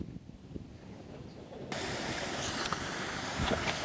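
Rushing water from a waterfall in the Sierra Nevada forms a broad, steady roar that swells suddenly and stays loud to the end, with a faint outdoor hiss before it.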